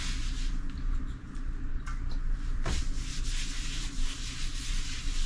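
A cloth wipes wax remover across a snowboard base in a continuous close rubbing and swishing sound, steady and fairly quiet, with no talk over it.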